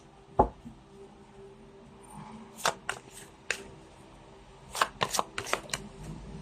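Tarot-style cards being shuffled and straightened by hand, with an opening snap followed by scattered riffles and taps that cluster in a quick burst near the end, close and fairly quiet.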